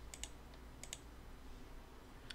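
Quiet computer keyboard presses while working in Rhino 3D, a few soft clustered taps and clicks over a low background hum.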